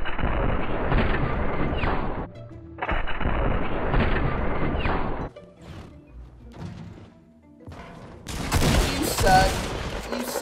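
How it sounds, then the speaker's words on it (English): Rapid gunfire from sniper rifles and shotguns in the Fortnite video game, loud dense volleys in two long bursts, then scattered shots and sharp bangs, with players' voices partly audible beneath the shooting. "I shot him with the sniper, he's one hit!"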